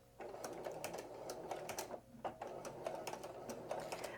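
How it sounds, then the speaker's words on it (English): A sewing machine stitching and back-stitching along the edge of a homespun fabric rag quilt, running in close, quick mechanical bursts with brief pauses and a short gap midway. "When I get to the end and I do my back stitch"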